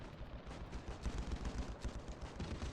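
Video game gunfire rattles in dense, continuous automatic bursts, loud and close, with overlapping shots and no pauses and no talk.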